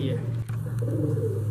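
Breeder pigeons give a short, continuous low cooing, close by, with a brief dip partway through and a light layer of ambient noise.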